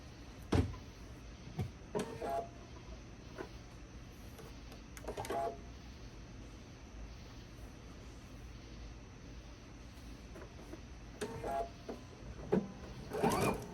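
A sewing machine stitches a reversible bag at a half-inch seam, running in a steady mechanical whir with a few louder bursts and clacks near the start, middle and end, no talking.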